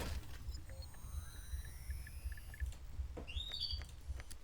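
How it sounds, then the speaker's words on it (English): A quiet outdoor ambience from the video game Beautiful Desolation: faint insect buzz and rising bird whistles and chirps over a low steady rumble, sparse and distant, with no talking. "Just the sounds of bugs, birds."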